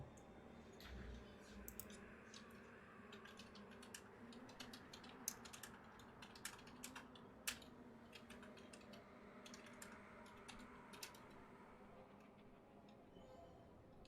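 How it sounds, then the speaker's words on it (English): Quiet typing on a computer keyboard, a steady run of soft clicks and taps with a few sharper keystrokes, heard alone at low level for several seconds. "I'm glad I didn't have to finish typing that sentence."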